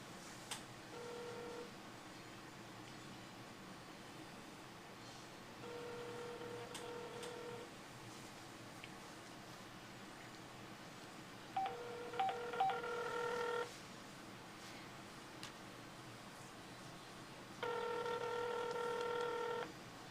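A phone on speakerphone makes a call, giving repeated ringback tones in separate bursts of about two seconds with quiet gaps between, and a few short key beeps partway through, all faint over steady room hiss.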